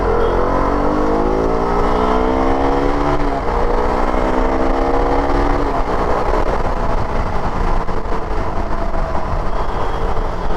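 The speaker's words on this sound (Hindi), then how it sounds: "जैसे ही आप थ्रॉटल ट्विस्ट करते हो ना, कुछ ऐसे ये बाइक एकदम से भागने को होती है" A KTM RC 200 motorcycle's high-compression engine revs up hard as the throttle is twisted, the pitch climbing in repeated rising sweeps, then settles into a steady loud drone close by, with no talking.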